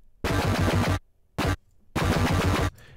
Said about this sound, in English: I'm going to bypass all the effects and let you listen to the Thor.